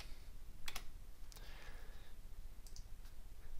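Sparse keystrokes on a computer keyboard as a package name is typed into a search box, a few quiet, separate clicks over a faint steady background hiss.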